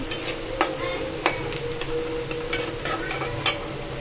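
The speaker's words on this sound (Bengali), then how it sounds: "আমি ঘি আর তেল দিয়ে আমি পেঁয়াজটা ভাজে নিতেছি" Onion frying in ghee and oil in a pan, a steady sizzle with scattered clicks and taps of a utensil stirring, close and continuous with no voices.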